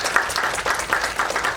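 Audience applause inside a Hare Krishna temple in Potomac, Maryland: fairly loud, dense clapping from a crowd, swelling in repeated waves across the whole stretch.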